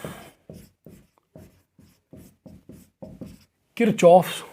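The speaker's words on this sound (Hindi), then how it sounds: "देखो देखो लिखता हूं मैं, किरचॉफ्स" Chalk or marker writing on a classroom board during a physics lecture: a steady series of short, close strokes and taps, about a dozen in rhythm, followed by a brief burst of a man's speech at the end.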